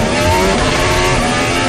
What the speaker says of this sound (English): this is the sound of Oscar Piastri, who had a rocketed start in his McLaren.